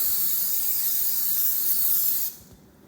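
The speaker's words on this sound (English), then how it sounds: "Spray the pan." Cooking spray hisses steadily around a cake pan in a home kitchen, one continuous close burst that cuts off near the end, leaving a quiet room.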